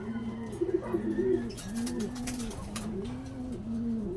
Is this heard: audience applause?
no